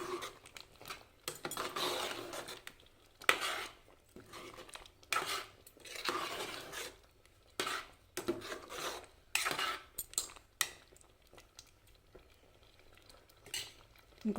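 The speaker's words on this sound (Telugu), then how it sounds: "ఇదంతా ఒకసారి కలుపుకోవాలి." A spoon scrapes and clinks through cucumber and moong dal in a pan with curry leaves and chopped coriander, in short irregular bursts of stirring separated by quiet pauses.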